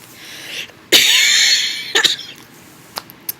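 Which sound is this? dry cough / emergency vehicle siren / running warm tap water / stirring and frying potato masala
dry cough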